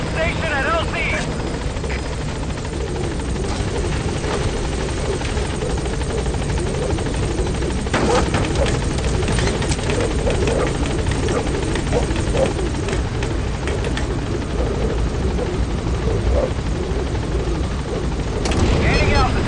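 A helicopter in Metal Gear Solid V descends onto a landing zone with a steady rotor thrum and engine whine throughout, while voices speak over the noise.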